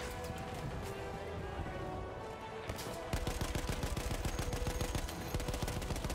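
Sustained rapid fire from a heavy machine gun in Battlefield 1, a steady rhythmic stream of loud close shots that dominates the latter half after a noisy lead-in.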